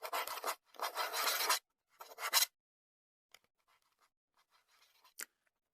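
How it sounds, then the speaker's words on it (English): Scratching on the surface of a VR headset, loud close bursts of rough rasping in three strokes, then faint scattered scrapes and one brief sharp scratch near the end. "I was scratching the actual headset"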